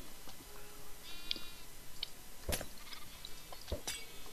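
Sheep in a Minecraft game bleating a few times at a moderate distance, short wavering calls over light clicking and a low background hiss.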